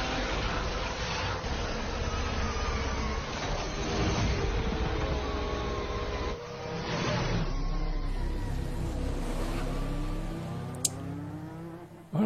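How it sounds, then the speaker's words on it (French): A Formula 1 car doing burnouts gives a loud, sustained engine roar, with revs sweeping up and down in long rising and falling whines and a brief drop in the middle. "la voiture a fait des burns"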